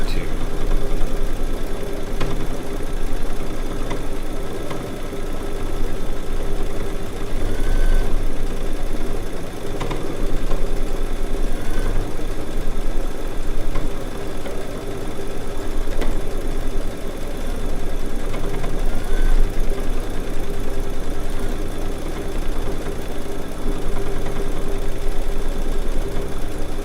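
A Baby Lock embroidery machine stitches an edge-to-edge quilt design with a steady, continuous mechanical whir and rapid needle chatter that holds at an even level throughout, with no pauses.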